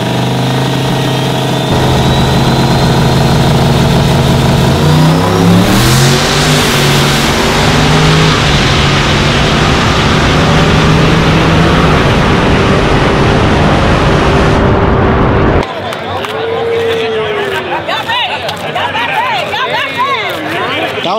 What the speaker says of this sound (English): we're gonna run a GTR